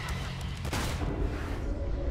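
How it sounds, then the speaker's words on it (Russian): Gunfire in the action game Devil May Cry 5, a dense booming burst with one sharper report standing out amid constant loud game noise and low rumble, with a voice faintly mixed in. "А я в голову стрельнул."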